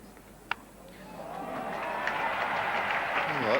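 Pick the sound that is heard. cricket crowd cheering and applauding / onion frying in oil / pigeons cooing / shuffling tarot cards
cricket crowd cheering and applauding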